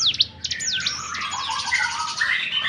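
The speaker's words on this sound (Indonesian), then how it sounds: "Tuh, cililin, burung cililin." A cililin bird calls with rapid, high chirps and sweeping whistled notes, fairly clear and continuous without any speech.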